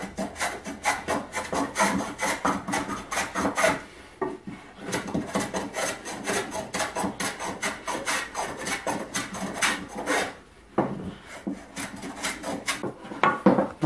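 Hand rasp worked back and forth along an old wooden shovel handle, a steady run of coarse scraping strokes close up with a few brief pauses, no talking.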